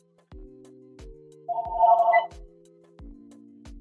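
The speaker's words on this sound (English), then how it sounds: "And I apologize for the phone ringing." A telephone rings indoors in a crafting space where sublimation is done on a glass cutting board, with repeated electronic ring tones and a brighter warbling burst in the middle, fairly clear and close.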